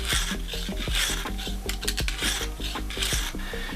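Knife blade stroked along a Lansky sharpening stone at a 25-degree guide angle, working from the tip: steady rhythmic rasping strokes, about two per second, close and clear with no talk.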